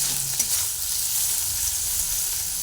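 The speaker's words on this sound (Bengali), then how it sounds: "আদাটা একটু তেলের মধ্যে দিয়ে দিচ্ছি আর ভেজে নিচ্ছি আদাটা" Ginger pieces sizzle steadily in hot oil in a pan, a continuous close frying hiss with faint stirring scrapes and no voices.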